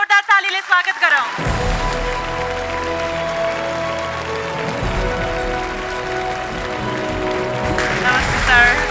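A studio audience at the Nepal Idol TV show breaks into loud, sustained applause to welcome a guest onstage. The clapping starts abruptly after brief music and continues dense and even to the end.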